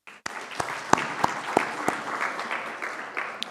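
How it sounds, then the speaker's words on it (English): Audience members at a smart grid conference's inaugural session break into applause, starting with a few sharp, separate claps that quickly thicken into a fuller round of clapping from the hall. "a big round of applause for ISGF"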